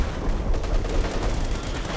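A time-on-target artillery barrage in Company of Heroes 2: a dense, continuous roar of overlapping blasts and crackling gunfire, loud and unbroken for two seconds.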